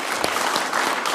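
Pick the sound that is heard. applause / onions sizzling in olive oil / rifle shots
applause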